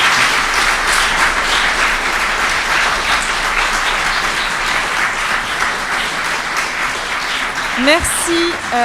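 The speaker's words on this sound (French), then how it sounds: "Et je pense qu'on peut les applaudir parce que c'était une belle prestation." Audience applause after three speakers at an evening conference on the Plantagenet empire, a dense steady clapping that fills the room at close range throughout, with a brief rising whistle-like tone near the end.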